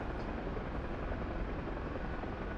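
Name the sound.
Huey helicopter flying in DCS video game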